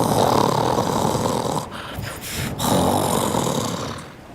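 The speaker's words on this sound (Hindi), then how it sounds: "जल्द ही कालू कौवा खर्राटे लेने लगता है।" A cartoon crow snores in loud, rasping drawn-out breaths, a couple of snorting cycles with brief pauses between them, close and alone.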